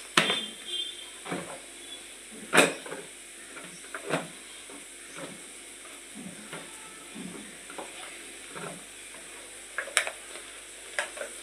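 Masala with a spoonful of red chilli powder frying in a pan, a quiet sizzle under scattered stirring scrapes and clinks spaced every second or so, no voice.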